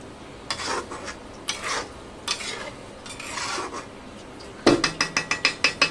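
Thick pumpkin halwa cooked with milk is stirred in a pan, giving several rough scraping strokes of a spoon against the pan bottom, then a quick run of sharp, rhythmic clinks near the end.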